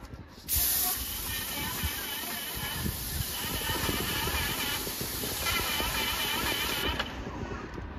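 A Gokee airless paint spray machine sprays steadily, giving a continuous loud hiss with a faint motor hum beneath it. The hiss starts abruptly and runs unbroken for about six seconds.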